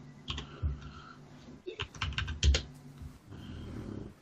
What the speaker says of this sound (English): sorry for the typing